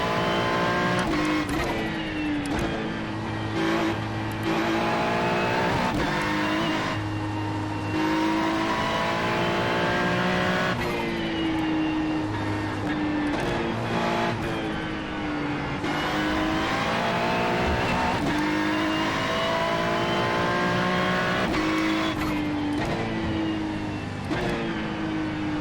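A Ferrari GT3 race car in the iRacing sim at the Charlotte Roval roars steadily up close, revving through repeated gear shifts as its pitch climbs and drops throughout, with no talking.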